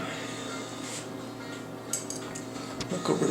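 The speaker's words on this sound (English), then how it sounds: "grab out the cucumbers, and again, I want to slice them thin" A knife slicing cucumbers thin on a cutting board gives a few light taps and clinks, quiet and sparse over a low background hum, growing busier toward the end.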